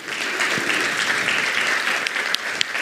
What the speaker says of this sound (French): je vous demande surtout d'applaudir ce magnifique panel